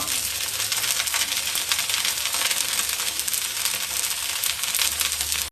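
Dosa batter sizzles on a hot pan in a home kitchen, a steady, loud, close frying hiss that holds evenly throughout with no talking.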